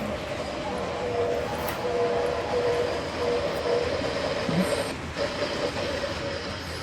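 An Erie Lackawanna train rolling past, a sustained loud rumble and rattle of rail cars with a steady tonal hum running throughout.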